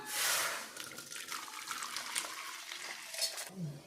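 Melted jaggery syrup strained through a sieve, a soft liquid trickling and splashing with faint clinks of utensils, close and fairly quiet.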